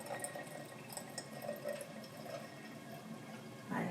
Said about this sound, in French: je vais venir mettre de l'eau froide pour en fait tout simplement réaliser une eau